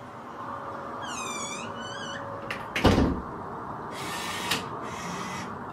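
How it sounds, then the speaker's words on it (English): A motorized smart door closes indoors: a rising electronic chirp, then a loud thud near the middle, followed by two bursts of mechanical whirring. No one speaks. "Alexa, close door."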